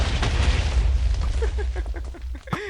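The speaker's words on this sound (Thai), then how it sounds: "ควางระเบิดไปแม่งเลย" A thrown bomb explodes in the Minecraft video game, a loud booming burst at the start that tails off into rumble while a voice talks over the end.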